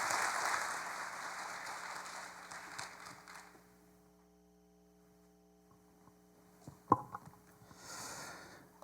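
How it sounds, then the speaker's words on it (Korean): Applause from a seminar audience at a Samsung contract-department admissions information session fades out over the first few seconds, leaving a steady electrical hum and a brief thump. "큰 박수 부탁드리겠습니다."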